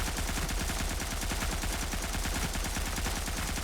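Sustained rapid machine-gun fire in a slower-paced shooter game, a steady rhythmic stream of close shots with no pauses and no voices.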